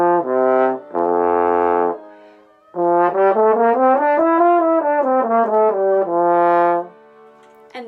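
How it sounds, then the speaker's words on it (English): A French horn plays a short melodic passage of sustained, rich brass notes, loud and close, with a brief pause before a longer legato phrase and a final held tone. "And that is the French horn."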